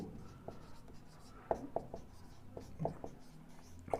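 Chalk or marker writing on a board during a math lesson on probability, a series of short scratchy taps and strokes in irregular rhythm, close and fairly quiet with no talk.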